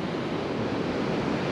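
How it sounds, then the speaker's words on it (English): Big ocean waves break on the beach at Assateague Island, Maryland, a steady, loud roar of surf with wind noise and no voices. "Those waves are big."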